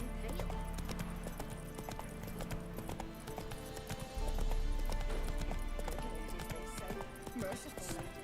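Galloping horse in The Witcher 3 video game: steady clip-clop of hooves running throughout over game music and ambience, growing louder midway, with talk mixed in.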